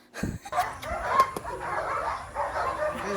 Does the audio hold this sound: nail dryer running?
no